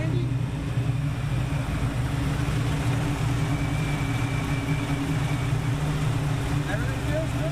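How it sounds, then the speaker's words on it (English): A 1978 Pontiac Firebird engine idles with its radiator fans running: a close, even low rumble overlaid by a constant whirring hum, holding steady throughout. "All right, those fans are running, idling."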